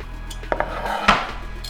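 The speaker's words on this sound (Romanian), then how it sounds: "Am aici câteva din vasele pe care le voi folosi." Cooking pots and pans clatter in a home kitchen, a few sharp metallic knocks and clinks close by over a low background hum.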